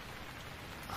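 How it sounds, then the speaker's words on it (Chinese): Light rain falls in a soft, even patter of drops on surfaces, a steady hiss with no pauses over a brief moment, and no one speaks. "还下着一点。"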